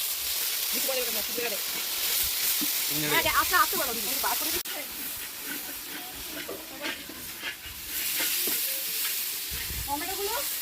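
Meat being stirred and sautéed in sizzling oil while the curry is browned, a steady frying hiss with scraping stirs throughout and people talking over it.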